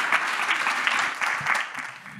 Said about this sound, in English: can I get a round of applause for Lisa